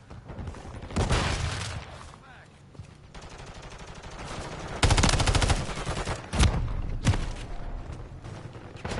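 Bursts of automatic gunfire from Call of Duty Modern Warfare 3 multiplayer, loud stuttering volleys in several clusters with brief lulls between, and voice callouts mixed into the game audio.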